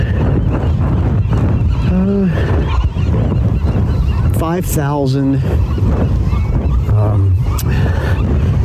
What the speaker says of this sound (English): pelicans and about an equal number of seagulls, as you can hear in the background